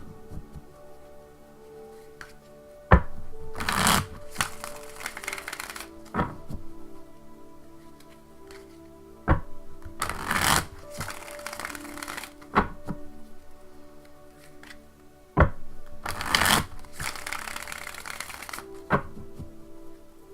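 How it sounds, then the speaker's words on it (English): A deck of tarot cards being shuffled by hand in repeated bursts of riffling, each lasting a couple of seconds, separated by soft taps and thunks, close and fairly quiet with no talk. "give me a moment to shuffle the deck and ask the tarot cards the question"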